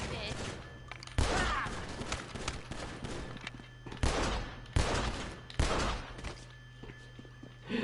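Gunfire in a video game, with several loud sharp blasts spaced a second or so apart over a constant low background hum, and a voice talking between shots.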